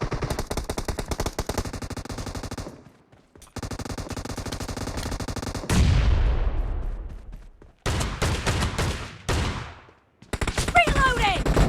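Shotgun blasts in a warehouse shooter game, arriving as dense rapid volleys of loud booming shots with brief pauses between, close and hard-hitting throughout.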